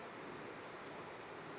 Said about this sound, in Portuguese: Tá caindo a chuva agora.